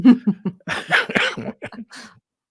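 A short run of harsh coughs, close and fairly loud, in quick bursts that trail off after about two seconds.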